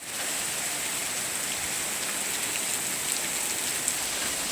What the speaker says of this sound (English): I get the rain.